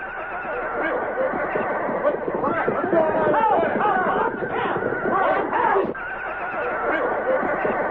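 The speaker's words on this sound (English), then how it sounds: "Then along toward dawn, there was an uproar of noise from the horses." A group of horses erupts in loud, agitated neighing and whinnying, with overlapping calls and some shuffling over about eight seconds, and human voices murmur underneath.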